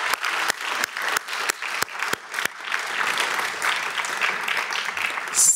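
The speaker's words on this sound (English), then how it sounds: "my wish is now to give an applause to all the mentors supporting our social entrepreneurs." An audience at a social entrepreneurship forum applauds the mentors, opening with a few distinct individual claps that quickly build into steady, full applause.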